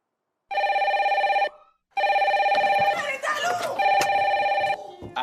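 A telephone rings in the Secret Story house, loud and close, with a long ring, a short pause, then further ringing while voices and rustling noises come in under it.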